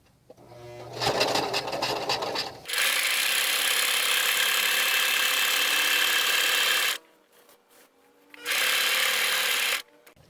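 A sewing machine stitches around the edges of a quilt in loud, close, rapid bursts, one short run then a long steady run, a pause and another run, with no talking.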